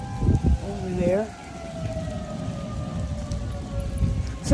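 Tornado sirens wail outdoors, a steady sustained tone with a slight falling pitch across the whole stretch, heard over gusty wind and rain-like noise, with a brief voice near the start.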